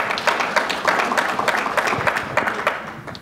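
Audience applause at a talk on the economic impact of the Domain, steady dense clapping filling the room for a few seconds with no voices over it.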